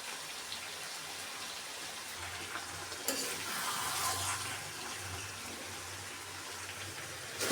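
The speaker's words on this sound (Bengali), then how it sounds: "আপনারা চাইলে মাংসটা ভেজেও নিতে পারেন, আমি ভেজে নিই" Chicken meat frying in a pan with a steady wet sizzle throughout, a louder burst of crackling and stirring around the middle, no voices.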